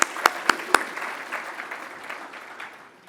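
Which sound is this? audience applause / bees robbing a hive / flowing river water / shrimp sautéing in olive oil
audience applause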